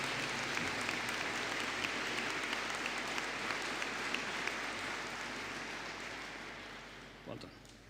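A graduation ceremony audience gives sustained applause for graduates, a dense roar of many hands that stays loud and then gradually tapers toward the end.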